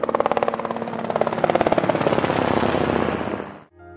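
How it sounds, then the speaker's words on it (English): A helicopter is heard close by, its rotor beating in a rapid, loud, rhythmic chop over a rumbling engine, holding steady for several seconds before cutting off abruptly near the end. "It's a helicopter."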